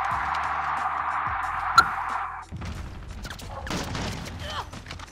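Bursts of rapid digital sniper gunfire from Call of Duty: Modern Warfare crackle over a steady hum, with a sharp crack near the middle and more scattered shots toward the end.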